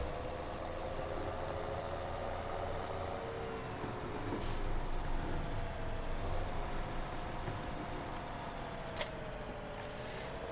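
A Fendt 720 tractor's engine, about 200 horsepower, idles in Farming Simulator 2017, producing a steady low rumble with a faint whine and two brief hissing bursts.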